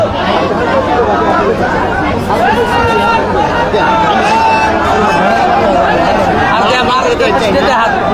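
A dense crowd presses around the stage at a political rally, loud continuous babble of many voices close by, with people talking over the din.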